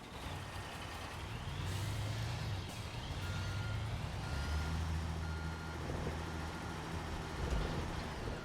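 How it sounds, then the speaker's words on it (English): A construction truck reverses in the video game Construction Simulator 2022, its engine droning low while a regular reversing beep repeats steadily over the rumble, with no voices. "I'll move the truck right here onto the curb so that way I can actually see it from the cab."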